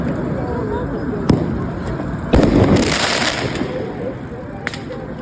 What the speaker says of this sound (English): Bottles, rocks, and even fireworks were reportedly thrown across the police line.